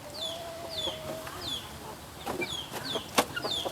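Chickens clucking in short repeated calls, moderately close, over a faint outdoor background with a few sharp knocks and clicks toward the end.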